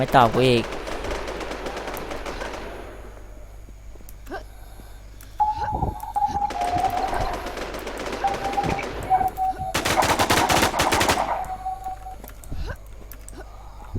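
Rapid bursts of automatic gunfire and single shots in an online shooter game echo through several loud volleys, with a few electronic beeps, under excited voices chatting in Thai.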